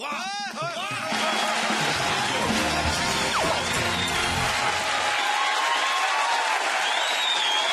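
A comedy show audience bursts into sustained applause and cheering, a loud, dense roar of clapping that holds steady for several seconds with music or tonal sweeps running through it.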